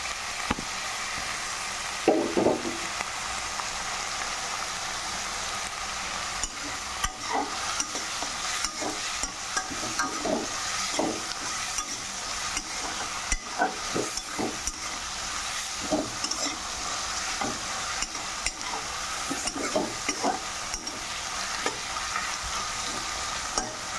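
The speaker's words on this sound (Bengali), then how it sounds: "এখন চাপা শুটকিগুলো দিয়ে ভালো করে ফ্রাই করে নেব।" Chapa shutki (dried fish) fries in a pan with pumpkin, a continuous loud sizzle punctuated by frequent scraping stirs and spoon knocks against the pan.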